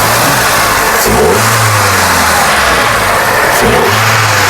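A 2014 Hyundai Xcent running on CNG after a sequential kit installation, its engine revved hard in repeated bursts, rising and falling loudly up close with no talk over it.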